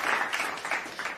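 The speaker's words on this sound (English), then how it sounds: "Give her a round of applause." A brief, muffled round of applause from a podcast studio audience, soft and somewhat distant, lasting only about a second.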